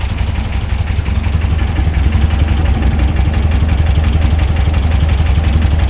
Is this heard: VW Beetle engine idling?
yes